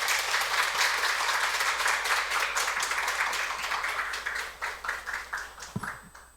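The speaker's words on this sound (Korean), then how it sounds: "우리 함께 따뜻한 마음을 담아서 박수로 모시겠습니다" A church congregation applauds to welcome a visiting missionary to the pulpit during a Sunday service. The clapping is dense and sustained for most of the clip, then thins into scattered claps near the end.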